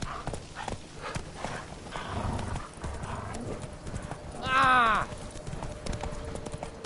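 Roach, the horse from The Witcher 3: Wild Hunt, gallops with rapid hoof clip-clops and lets out one loud, close whinny midway, while a man gives a short exclamation.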